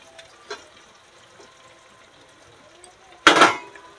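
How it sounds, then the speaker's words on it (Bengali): Fried potatoes being stirred into a pea and chicken ghugni masala in a pan: mostly quiet, with a couple of light taps, then a brief loud scraping clatter of the spoon against the pan. "ভেজে রাখা আলু দিয়ে একটু নেড়ে নেব"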